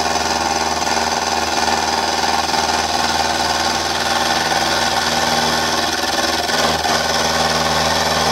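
A metal boring machine cuts the cylinder of a Stuart Models S50 engine while two hand wheels are turned, a loud steady mechanical whir and hum with rhythmic vibration, constant throughout.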